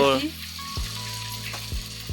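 Onions sizzle and crackle in a hot pan over a cow-dung fuel fire, with a few scraping stirs of a utensil at regular intervals.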